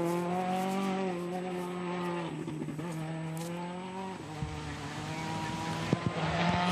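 A Citroën rally car finishing the final special stage of the 2014 Monte Carlo Rally, its engine holding a steady, sustained drone with shifting pitch, then a brief dip and a few sharp pops near the end.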